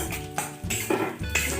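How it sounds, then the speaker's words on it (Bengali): Dry fruits tipped into hot ghee in a pan for chire payesh, a few clattering knocks of the spoon against the metal pan with a faint sizzle underneath. "হয়ে গেছে, আমি ড্রাই ফ্রুটসগুলো দিয়ে দিচ্ছি"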